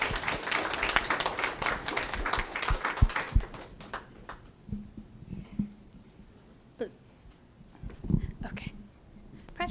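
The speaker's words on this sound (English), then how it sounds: "you want to give him a round of applause first before we go to questions?" Audience applause at an artist talk, a dense burst of clapping in the opening seconds that thins into scattered claps and voices.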